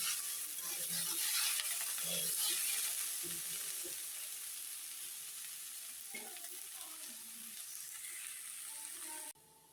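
Potato and onion stalks fry with small chanda fish in a pan, a close, steady sizzle broken by stirring scrapes, fading slightly before cutting off near the end.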